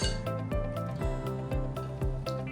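Ready-to-cook pizza pasta sauce powder being stirred with water, with rhythmic squishy, wet mixing strokes roughly twice a second, close up with no talking.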